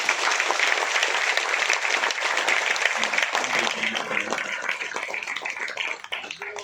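A crowd at a Tamil haiku award ceremony and book launch claps loudly in a dense, steady wash of applause that thins and fades toward the end.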